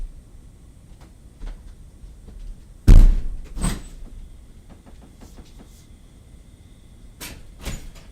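A closed door to the backyard is tried at night, giving a sharp loud rattle and thump near the three-second mark and a second knock soon after, with another short rattle near the end against a quiet room.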